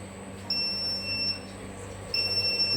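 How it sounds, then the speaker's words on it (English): Steady electronic beeping from the oiler alarm of a BOS V5 CNC machine, a thin high tone sounding in repeated stretches over a low machine hum, with no talking. "that alarm is just simply the oiler"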